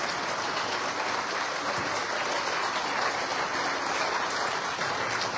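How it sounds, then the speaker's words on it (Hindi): An audience claps hard and fast for a couple being called up at a gathering, a dense, loud and steady wash of applause that fills the whole stretch with no speech over it. "मैं चाहता हूँ दिल से एक बार जोरदार ताली हो जाती है दोनों के लिए।"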